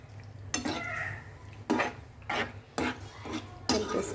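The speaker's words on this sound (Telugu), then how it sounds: "స్ట్రెయిన్ చేసి పెట్టుకున్న పాస్తా వేసి బాగా కలిపేసుకోవాలండి" Strained pasta and vegetables are stirred in a pan with a utensil, giving several distinct scraping, clattering strokes in an irregular rhythm over a faint sizzle, close and moderately quiet.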